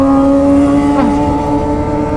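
A motorcycle with a racing exhaust revs close behind on an Indonesian street, a loud droning engine note that rises and falls briefly over about two seconds.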